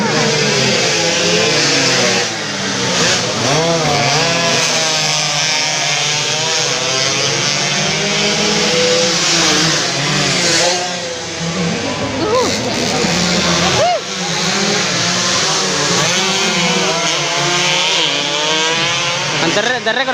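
A two-stroke underbone sport motorcycle revs hard at a road race in Jeneponto, its loud, high-pitched buzzing engine note rising and falling continuously for twenty seconds, with people's voices faintly mixed in.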